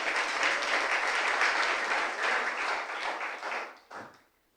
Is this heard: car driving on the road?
no